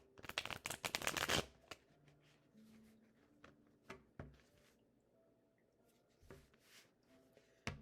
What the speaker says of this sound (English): Now, I really have to shuffle these cards.